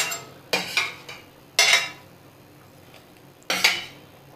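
Fried potatoes dropped into a pan of Labeo bata fish curry: three distinct clattering bursts of metal spoon and pan contact, each with a short scraping tail, over a quiet background.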